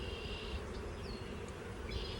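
Honey bees buzzing around a hive box after strong winds, a faint continuous drone with a few passing individual buzzes, heard alone outdoors.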